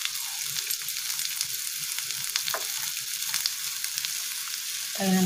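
Snake gourd pieces fry with onions in a pan, giving a continuous close sizzle and hiss with faint stirring scrapes, ending in a brief louder knock.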